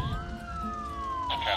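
An ambulance siren wails in the video game SimCity, a single sliding tone sweeping gently downward, fairly close, over a busy city background, with a brief brighter burst near the end.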